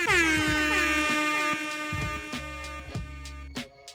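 An air horn sample fires from a DJ software sampler, loud blaring tones that stutter into several quick repeated blasts.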